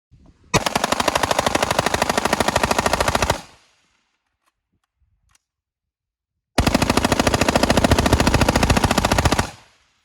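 An EVZ-1 15 rifle with a free-floated nitrided barrel and Strike Industries gas block fires two long rapid strings of loud, sharp shots, each burst lasting about three seconds with a quiet pause between them.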